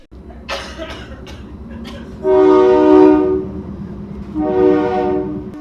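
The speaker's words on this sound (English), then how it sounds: "we were just standing there writing a fabric order when the train came by" A train rumbles past steadily while its horn blows two long, loud blasts, the second shorter than the first.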